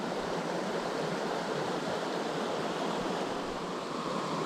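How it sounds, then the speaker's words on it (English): Solid waterfall on a small mountain tributary stream in the remote hills of central North Georgia, a steady broadband rush of falling water, continuous and unbroken, moderately loud throughout. "It looks like there's a pretty solid waterfall in front of us"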